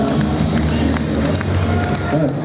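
A loud crowd fills an MMA-themed event hall in Yakutsk with steady applause and cheering for guests on stage, a dense, continuous wash of clapping and voices with no pauses.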